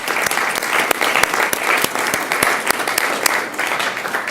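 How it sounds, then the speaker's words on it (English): Audience applause at a school board meeting: steady, dense clapping from a room full of people, fairly loud and sustained throughout, with no speech over it. "that certainly deserves a big round of applause"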